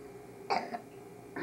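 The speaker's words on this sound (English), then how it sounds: "give me a big cough" A single short, throaty cough up close from a patient in a hospital, followed moments later by the start of another.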